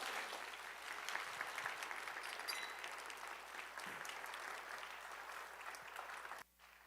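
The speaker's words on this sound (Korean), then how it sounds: "우리 나오실 때 뜨거운 꿈의 박수로 환영해 주시기 바랍니다" Warm applause in a church chapel as a speaker is welcomed to a Wednesday service seminar, steady clapping from the congregation that cuts off abruptly at the end.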